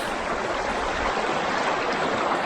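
Water of the Ven Brook on Dartmoor near Okehampton and Yes Tor in West Devon. The stream rushes with a close, steady, broadband hiss and no break, with no voices.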